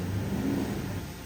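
Toyota Tundra pickup truck engine revving hard while pushing through soft off-road ground, a steady loud mid-range drone with no pause.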